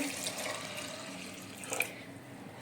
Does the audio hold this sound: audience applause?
no